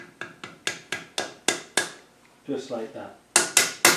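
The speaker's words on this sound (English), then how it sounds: "and then that should just tap into place." A collar inside a Land Rover R380 gearbox is tapped into place during final assembly, with about a dozen sharp, close metallic taps in an uneven rhythm, some in quick pairs, and a brief spoken phrase partway through.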